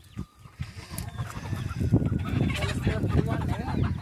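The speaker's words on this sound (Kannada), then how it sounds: "ಅವು ನೀರು ಕುಡ್ದು ಇಲ್ಲೇ ನೆಳ್ಳಿ ಮನ್ಕೋತಾವ ನೋಡ್ರಿ ಕೋಳಿ." Chickens resting in the shade after drinking water near a farmyard coop cluck and squawk, starting softly and then growing into a busy, overlapping close-up chorus.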